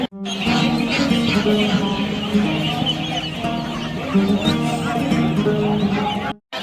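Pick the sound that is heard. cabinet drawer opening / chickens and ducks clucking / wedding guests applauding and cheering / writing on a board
chickens and ducks clucking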